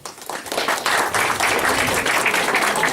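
Wedding guests clap together in a steady, dense burst of applause that swells after a brief start and holds loud and close throughout, with no talking.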